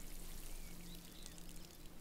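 Water pours steadily from a watering can onto plants in Wylde Flowers, a continuous soft splashing stream that stays at an even level from start to finish.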